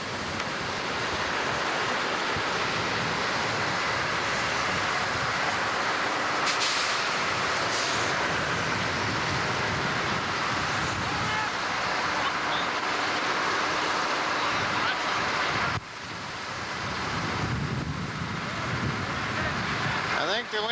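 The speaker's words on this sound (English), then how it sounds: "I think the wind chill factor probably is about 70 below or better. The wind's blowing." Cold wind blowing hard across a winter mine site in Alaska at forty below, a constant loud roar of rushing air buffeting close by for the whole stretch, with a brief dip near the end.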